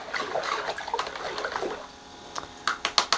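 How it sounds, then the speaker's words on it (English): Liquid fertiliser is stirred into a container of water, giving soft sloshing and swirling that pauses briefly, followed by a few sharper splashy strokes at close range. "Give it a good stir again."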